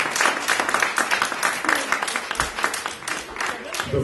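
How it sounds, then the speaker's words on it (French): Audience at a hypnosis stage show applauding, close and lively clapping with uneven bursts and swells, a voice talking over it at moments. "On peut les applaudir encore, s'il vous plaît."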